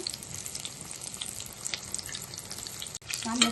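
Egg bajji fries in hot oil, a dense, steady crackling sizzle heard up close, with a short clatter and a brief break near the end, no talking.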